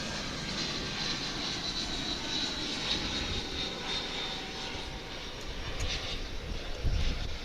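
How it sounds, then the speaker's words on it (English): An American Airlines Airbus A319 jet arrives at DFW airport, a steady, distant, moderately faint roar of engines with a thin high whine drifting over the runway for several seconds. "Coming in from San Luis Potosi in Mexico, it's an A319."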